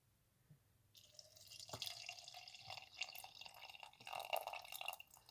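Uplift energy drink is poured into a glass: a steady, close liquid splash and trickle that builds over a few seconds, then settles into dripping and gurgling.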